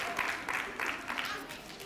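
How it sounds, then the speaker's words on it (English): A crowd claps and cheers in a steady wash of applause, fairly distant, with voices mixed in. "Let's give ourselves a real big"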